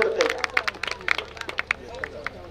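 A village wrestling-ground crowd at a kusti match claps in scattered bursts, uneven rhythmic slaps under someone talking over a loudspeaker.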